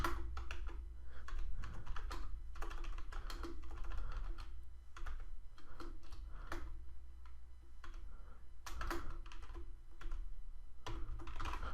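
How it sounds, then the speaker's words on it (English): Keys clack on a computer keyboard in quick irregular bursts with brief pauses, up close and steady over a low background hum, with no voices. "I can't type today."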